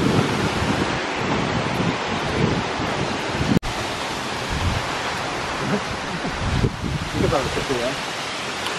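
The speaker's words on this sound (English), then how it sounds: "We're on the bridge now, but this is the waterfall." A waterfall on the Oregon coast roars as a broad, constant wash of rushing water heard from a bridge, with wind buffeting the microphone and voices talking faintly beneath it.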